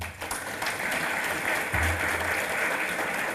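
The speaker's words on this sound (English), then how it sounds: "put your hands together for this entire team" An audience at an Attorney-General's conference in Fiji claps steadily, a dense, continuous round of applause filling the room at moderate volume throughout.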